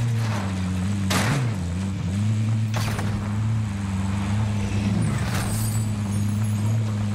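A car driving in Call of Duty: Modern Warfare, a steady droning engine hum with a constant low pitch, occasional thumps and brief bumps or impacts breaking through the continuous motor sound.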